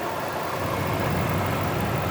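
A supercharged 5.4 liter engine in a 2003 Ford F-150 Harley Davidson Edition runs at a steady, smooth idle, with a close, continuous low rumble and no talking.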